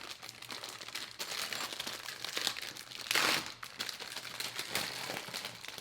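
Close, continuous crinkling of a plastic bag being handled, with irregular crackles and a louder rustling burst midway.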